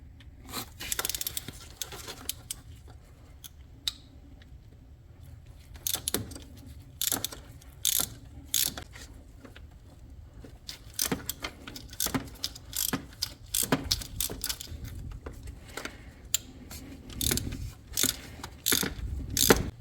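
Ratchet wrench clicking as it turns a socket fitted with a small T30 adapter in a tight spot on a BMW 440i during a water pump replacement, giving irregular bursts of close ratcheting with pauses between turns.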